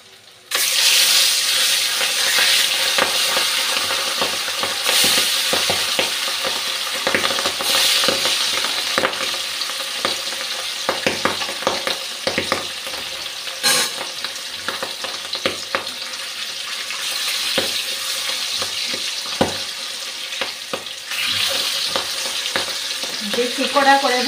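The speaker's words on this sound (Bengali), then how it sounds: "তেল গরম হয়ে গেছে, মাছটা ভাজতে দিয়ে দিচ্ছি।" Fish frying in hot oil in a home kitchen beside a dish of beans and sweet pumpkin, a steady loud sizzle throughout with occasional clinks and scrapes of stirring, no talking.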